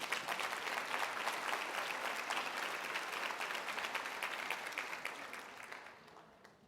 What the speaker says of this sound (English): So I want you to give yourselves a round of applause.